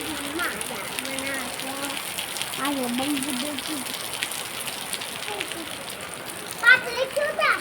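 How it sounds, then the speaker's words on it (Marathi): Soft steady patter of rain fills the background while children's voices chatter and call out over it, growing louder toward the end. "बघा आज पाऊस पडतो आहे"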